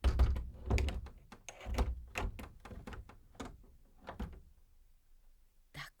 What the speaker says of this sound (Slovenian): Zaklenili bova vsa vrata, da ne bo mogel v hišico.